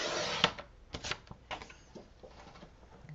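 Paper being cut for a handmade card gives a few short, crisp snips and slicing strokes, close and fairly quiet, spaced irregularly over about three seconds.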